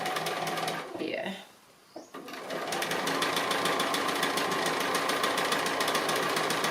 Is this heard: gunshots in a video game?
no